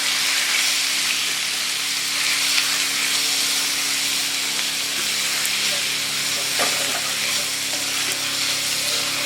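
Shrimp and lobster sizzle and fry in a hot pan, a steady loud hiss with faint stirring clatter throughout and no one talking.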